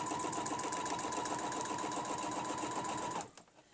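Sewing machine with a ruler stitching petals around a dome, running in a fast steady mechanical whir for about three seconds before stopping abruptly.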